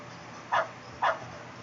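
Two short, clear dog barks about half a second apart from a dog in the video game Beyond the Fence, with no talk over them.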